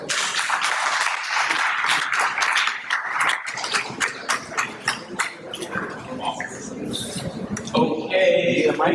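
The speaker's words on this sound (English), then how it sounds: "give a round of applause for Chip Jones" Meeting audience clapping to welcome the guest speaker at a July club gathering, a busy spread of hand claps with some movement and clinks, growing denser toward the end.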